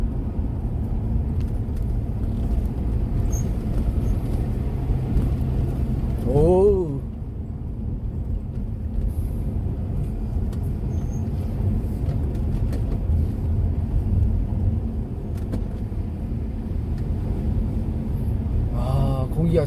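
A car engine drones steadily in first gear, climbing a winding mountain road near a village at about 700 m, a continuous low rumble with brief tonal whines, with people talking inside over it.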